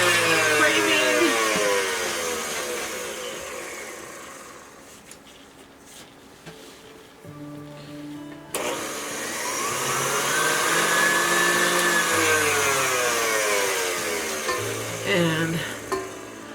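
Butter, sugar, egg and vanilla being creamed for s'mores cookie dough, a steady electric mixer whir that dips in the middle and then resumes, with no talk over it.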